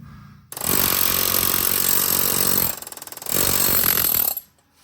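A loud pneumatic air hammer, powered by a compressor, rattles in two long bursts with a brief pause between them, close and harsh, then stops, hammering out a Lexus GX470 intermediate steering shaft from the underside.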